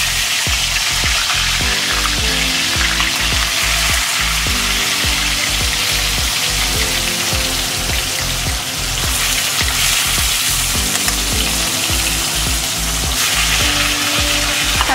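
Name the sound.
Katla fish pieces frying skin side down in oil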